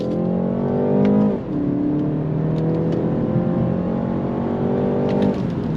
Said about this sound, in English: Let's go ahead and go on throttle in this new 3 Series